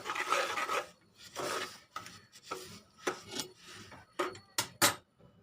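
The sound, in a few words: stirring sesame seeds quickly in a pan for til laddoo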